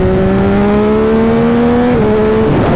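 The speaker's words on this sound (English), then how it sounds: "This thing just loves to accelerate." A 2021 Yamaha MT-09 motorcycle with a flashed ECU pulls hard on a race track, its engine note climbing steadily, then dropping sharply at a quick upshift before rising again and shifting once more, loud and close.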